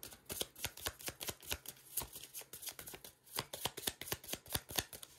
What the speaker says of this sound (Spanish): Y vamos a barajar esto.